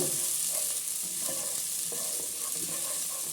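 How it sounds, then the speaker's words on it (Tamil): Onion and green chillies sautéing in a pan for a salmon fish curry, a steady close sizzle broken by repeated spatula stirs and scrapes, loud and even, with no voices. "கிரீன் சில்லியும் ஆனியனும் போடுறோம் ரெண்டு ஒன்று தான் ஓகேவா அப்படியே வதக்கிட்டு இருங்க"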